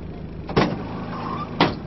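Inside a police van with a low engine rumble, two short thuds or clunks of a door sound about a second apart, nearby.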